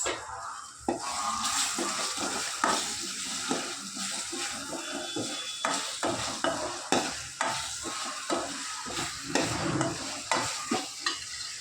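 Ginger garlic paste sizzles and fries in a pan while a spoon stirs it in repeated scraping strokes, close and steady with no talk.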